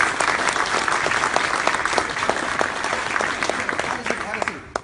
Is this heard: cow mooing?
no